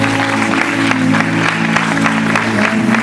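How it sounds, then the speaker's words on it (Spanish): Party guests at a quinceañera clap together, their scattered applause sounding loud and close over tonal music playing throughout the three seconds. "¿Te parece si le tomamos el aplauso?"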